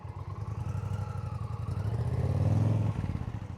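A motorcycle engine chugs at low speed during throttle-control practice, its rumble swelling as the revs rise and then easing back toward idle, close and clear with no talking.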